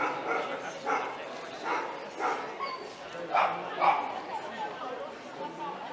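Several dogs bark and yip in short bursts amid lively crowd chatter at an outdoor dog show in Châlons, the barks rising and falling around the busy gathering.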